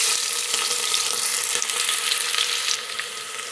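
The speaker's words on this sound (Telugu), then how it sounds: "నూనె హీట్ అయింది ఉల్లిపాయ ముక్కలు పచ్చిమిర్చి ముక్కలు వేసేద్దాం" Onion and green chili pieces hit hot oil in a pressure cooker for talakaya charu, a head-meat curry. A loud, dense, steady sizzle runs throughout, easing slightly near the end, with no voices.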